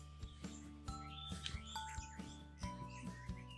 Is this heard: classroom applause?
no